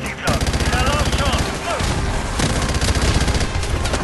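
Rapid bursts of gunfire from several weapons in Modern Warfare Remastered, loud and dense, with shots overlapping in a near-continuous fusillade over heavy low rumble throughout.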